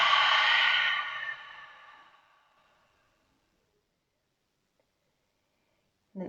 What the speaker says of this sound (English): open your lips and exhale everything out.